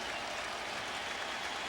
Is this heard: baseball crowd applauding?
yes